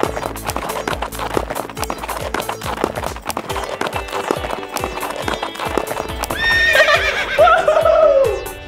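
Steady galloping hoofbeats over lively background music, ending with a loud, high horse whinny near the close.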